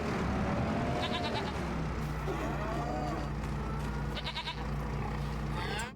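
Goats bleat repeatedly in Farming Simulator 25, with several overlapping calls close by above a steady, loud backdrop of farm ambience and low machinery hum that carries through the whole stretch.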